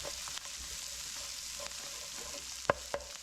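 Leftovers frying in a pan, a soft steady sizzle close by with a few scrapes and clinks of stirring, quiet and without talking.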